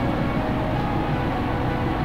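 A steady, droning car engine hum in the video game BeamNG.drive, with low rumble, constant in level throughout, no voices.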